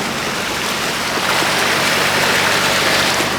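A vehicle pushes through deep floodwater after Hurricane Ian, making a wake; a continuous loud rush and churn of water fills the whole moment with no speech.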